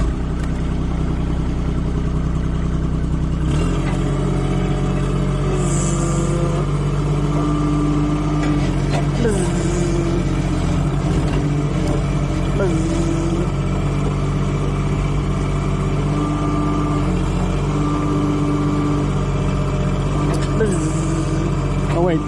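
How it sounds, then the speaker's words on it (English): A small tractor-like machine engine runs loudly and steadily while digging holes for apple trees, its continuous droning rumble filling the whole stretch with occasional higher whines and clanks on top. "Why is the machine so loud?"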